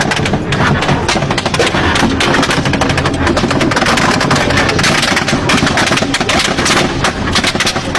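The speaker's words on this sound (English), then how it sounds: "They came under heavy enemy fire." Heavy gunfire erupts around an armored personnel carrier of Kenyan soldiers under attack, loud dense bursts of rapid shots and heavier blasts packed tightly together throughout, with no talking.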